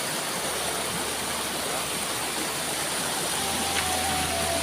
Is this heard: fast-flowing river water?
yes